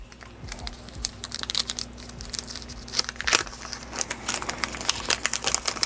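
A vintage Topps Gremlins 2 wax card pack is torn open close by, giving a steady stream of dry crinkling, crackling paper and wax wrapper noise with a few sharper rips.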